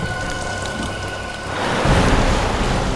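Heavy rain pours down in a steady hiss that swells louder and denser partway through, close and with no voices over it.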